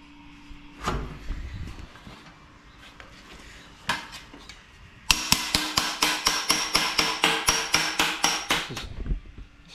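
Car body metal for a 1937 Nash chopped top is hammered on a pipe anvil: a few scattered knocks, then a rapid, even run of about fifteen sharp, ringing metallic blows close by.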